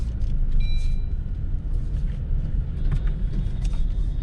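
A car drives and makes a turn, with a steady low rumble of engine and road noise throughout and no talking.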